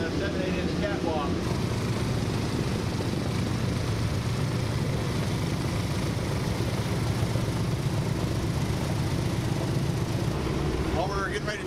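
A B-17 bomber's piston propeller engines idle before takeoff, a steady close droning roar filling the whole stretch, with talk mixed underneath.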